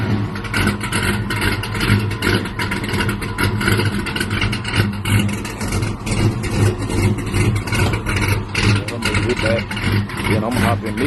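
A cold car engine runs right after starting, its steady low idle chugging close by while people talk over it throughout.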